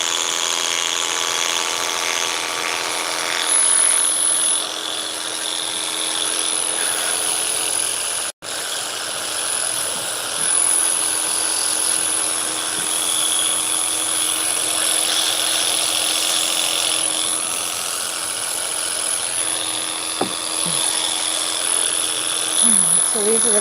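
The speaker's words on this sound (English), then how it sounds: "So these are the clippers." Electric horse hair clippers run steadily with a constant high whine and buzz, a single brief click interrupting midway, with light farm background noise throughout.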